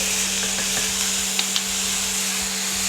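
Vegetable filling with vegetarian oyster mushroom sauce and sesame oil sizzling steadily in a pan, a constant close hiss with a few light stirring clicks, no talk.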